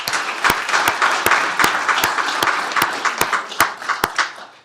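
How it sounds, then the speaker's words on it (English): Room applause at a county commissioners court meeting, a steady wash of many hands clapping with sharp, regular louder claps close to the microphone, tapering off at the end. "let's give him a round of applause, though."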